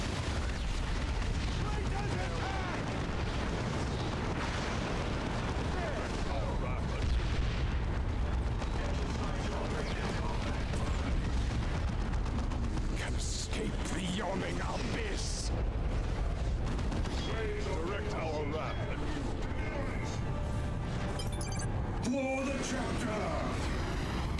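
A Space Marine squad's weapons firing in Dawn of War 2 with the Wrath of the Blood Ravens mod, a dense continuous roar of gunfire and explosions layered over battle noise for the whole stretch, with voices talking over it.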